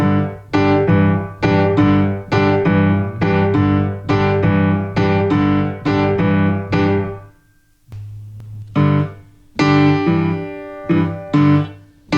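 A boogie-woogie piano line played with full syncopation, loud and close, repeated chords pounding in an off-beat rhythm with a brief pause before the pattern resumes, no voices.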